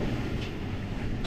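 Strong wind roars across the microphone aboard a sailboat in big seas off the western side of Skye, a dense, continuous rumble and buffeting with no pauses.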